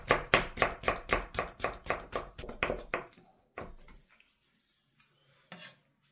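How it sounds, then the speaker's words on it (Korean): Knife finely julienning carrot on a cutting board for spring cabbage kimchi: about twelve rapid, even chops in a steady rhythm, close and crisp, then a few scattered knocks and quiet handling. "곱게 채를 썰어줄게요."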